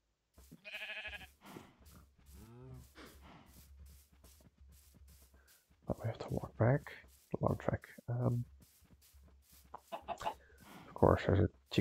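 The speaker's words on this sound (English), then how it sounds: "There's a chicken here as well." A chicken clucks in the Minecraft video game, a short burst of fowl calls early on, followed by a stretch of someone talking over quieter game sounds.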